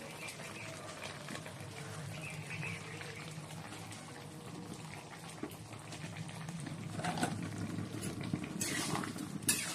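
A spoon stirs curry in a pot after ghee and garam masala go in, making soft scraping and clinking at close range with faint sizzling, while someone talks over it.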